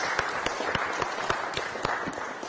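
Sparse applause for a guest on a city council program in Florianópolis, a few scattered, distinct claps from a small group, fairly close and evenly spaced.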